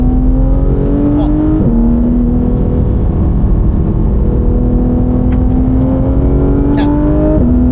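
A car accelerating hard on a race track during a driving coaching session, its loud engine note climbing steadily with two gear changes, under faint instructor talk.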